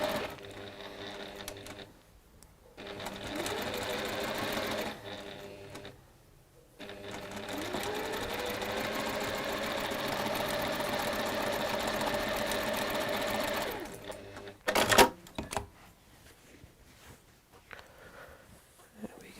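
A sewing machine stitches patchwork in runs of steady mechanical whirring, stopping briefly a few times, then a sharper clatter near the end before quieter handling noises.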